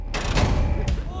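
A couple of sharp gunshots crack out close and loud, followed by a short echoing tail.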